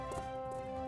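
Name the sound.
horse hooves clip-clopping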